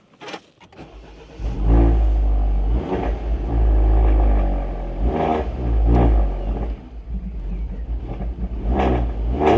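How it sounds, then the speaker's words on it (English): A Mini Roadster JCW engine turns over and catches on a cold start, then idles rough and revs up loudly several times, close and dominant throughout with no talking. "Always struggles a little bit when she's cold, and that was a proper cold start."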